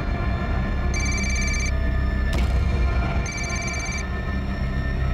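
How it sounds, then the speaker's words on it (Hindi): A telephone rings twice in trilling bursts about a second long, with a sharp knock between them, over steady background noise. "घंटी की आवाज आ रही है अंदर से।"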